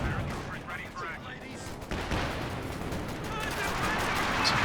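Anti-tank guns firing on a Jagdpanzer in Company of Heroes 2, heavy booming shots with a sharp blast partway through, over a constant roar of battle noise and a commentator speaking.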